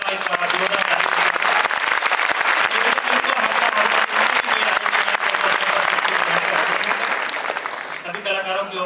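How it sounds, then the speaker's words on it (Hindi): Loud, dense audience applause at a stage performance event, continuous and close for most of the clip, then thinning at the end as voices come through. "एक बार जोरदार ताली"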